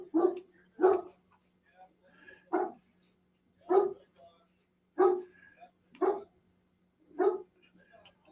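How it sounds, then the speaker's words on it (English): A single dog barks in repeated loud, sharp bursts, about seven barks spaced roughly a second apart, even though it is wearing a bark collar; a faint steady hum runs underneath. "I see the bark collar on my dog has not worked."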